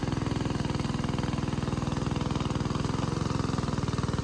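A small tractor engine runs in a farm field at rice sowing time, thudding in a fast, even rhythm, close and steady throughout with no talk.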